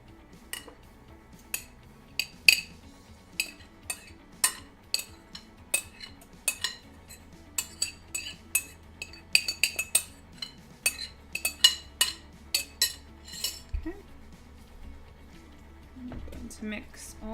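A spoon stirring chicken corn chowder in a pot, sharp metallic clinks against the rim in a steady repeated rhythm, close and clear, with a voice speaking underneath.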